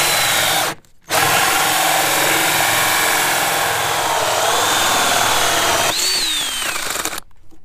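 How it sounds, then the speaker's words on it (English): Power drill boring holes through a boat deck for a windlass mount, a loud continuous whirring grind that runs for several seconds between brief pauses, with a rising squeal as the bit works through the cored deck. "So I'm drilling a couple of these holes."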